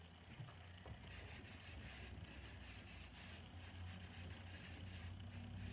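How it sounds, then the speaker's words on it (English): A painted wooden hamper is wet-sanded in steady, quiet back-and-forth rubbing strokes that form a continuous soft scrubbing texture, with no talk. "this wet sanding, you don't need to sand with sandpaper"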